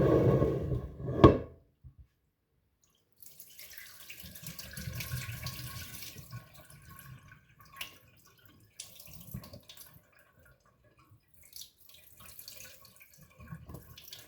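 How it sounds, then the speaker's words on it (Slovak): Water runs from a tap while fries are rinsed in a bowl in a home kitchen, with a short loud splash at first, then a long stretch of moderate running and splashing that fades to lighter intermittent trickles. "Vylijete znova vodu."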